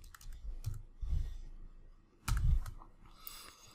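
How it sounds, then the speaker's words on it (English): Keys tapped on a computer keyboard while typing a short note in Xactimate estimating software, coming as a few separate bursts of clicks with short pauses between them, close and fairly quiet. "I'm going to open up a, a note and I'm going to type in the word again"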